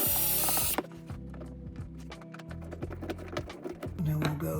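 A ratchet tightens a screw into a staircase during a DIY remodel, giving rapid repeated clicking strokes, close and fairly quiet, with a low mechanical hum beneath.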